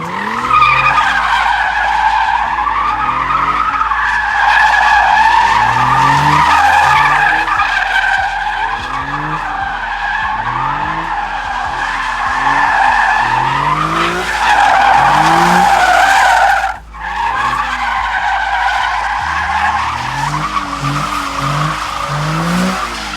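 A car spins donuts, tires squealing and skidding in repeated cycles as the engine revs rise and fall, loud and close, with a brief drop in the noise partway through.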